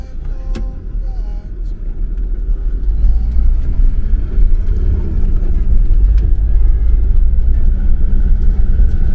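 Car descending a dirt mountain pass in the Andes of Bolivia at night, a steady low engine rumble and road noise throughout, growing slightly louder after a few seconds, with faint talk beneath.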